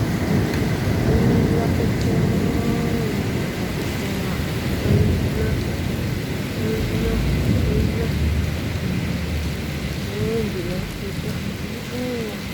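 Heavy rain pours steadily during a thunderstorm in Bahrain, a dense continuous hiss with low rumbling beneath, while a person talks intermittently over the downpour.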